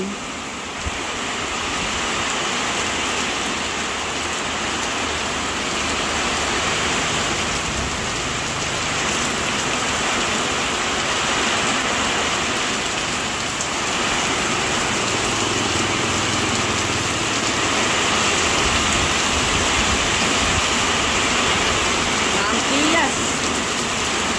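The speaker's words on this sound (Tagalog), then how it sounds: "Grabe po kalakas ang ulan" Heavy rain pours steadily and loudly, a dense unbroken roar of drops on surfaces with no pause.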